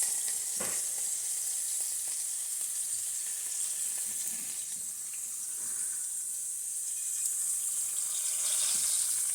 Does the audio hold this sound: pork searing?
yes